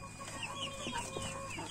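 Isabel Ligorin chickens and a rooster cluck faintly in a low, continuous murmur of soft calls over steady background noise.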